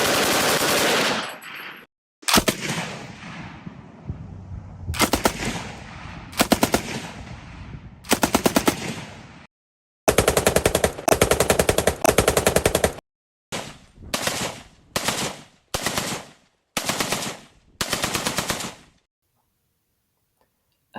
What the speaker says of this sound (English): The advanced muzzle of the FG-42 helped with recoil and limited muzzle flash, although it made blast and noise much greater than on similar weapons.